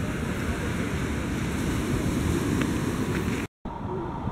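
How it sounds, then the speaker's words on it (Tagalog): Sea waves at La Union, Philippines, rush and wash continuously with a surf-like roar and some wind noise, steady and fairly close, broken by a brief cut near the end. "naririnig niya yung agos ng tubig"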